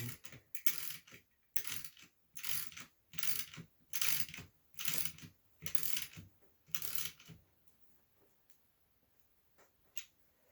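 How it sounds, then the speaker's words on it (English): A hand ratchet tightens battery BMS connections, making about nine quick bursts of rapid clicking with short pauses between them before falling quiet. "I'll need to change the direction of the ratchet so it'll be a tight."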